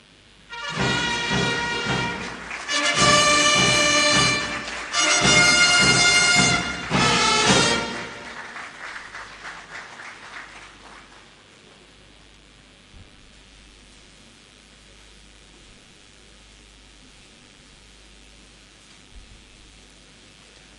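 Audience at a convocation ceremony for cadets and postgraduate students claps for honorary awardees in loud, dense waves for about eight seconds, then the applause falls away to a quiet hall with faint rustle.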